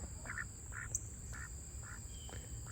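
Ducks at a backyard turtle pond give a series of short, evenly spaced quacks, about six in quick succession, moderately near over a quiet outdoor background with a steady high-pitched hum.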